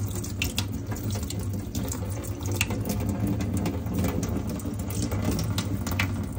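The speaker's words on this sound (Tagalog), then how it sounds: "tigasan nyo lang muna yung brush ng tap water" Tap water runs steadily from a faucet over a makeup brush during cleaning, a close, continuous splashing stream with no voices.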